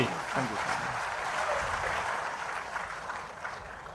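A crowd at a public political meeting applauds, a dense, steady roar of clapping that holds for several seconds and slowly eases off toward the end.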